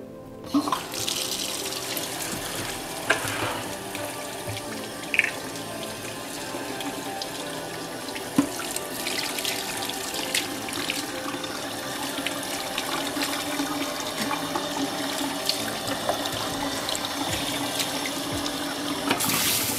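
Warm tap water runs steadily into a sink to fill a bath for a Mini Australian Bernedoodle puppy, a continuous close splashing gush with a few small knocks and clatters, and no talking.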